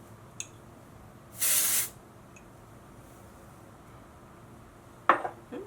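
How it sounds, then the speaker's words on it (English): Texture spray hisses onto hair in a single short burst of about half a second, with no talking and a quiet room around it. "I'm going to do my texture spray."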